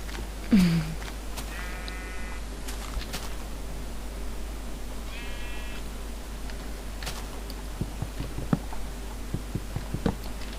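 A sheep in the Minecraft video game bleats twice in short, clear synthetic calls, set against a low steady hum and scattered faint clicks of gameplay.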